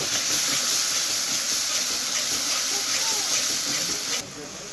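Spices with salt sizzle and fry in a hot pan for a Bengali home-made tarka, a dense, steady hiss close by that drops abruptly near the end.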